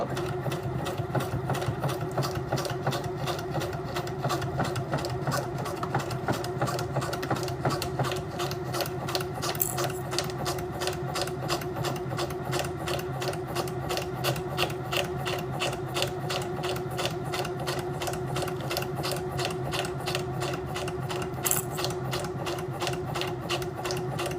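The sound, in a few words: sewing machine back stitching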